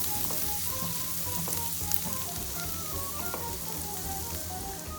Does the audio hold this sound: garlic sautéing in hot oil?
yes